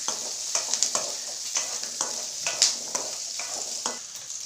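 Onions sauté in a pan for a roasted-spice chicken curry, giving a close, moderate sizzle with repeated stirring scrapes and soft clatters roughly every half second, no talking.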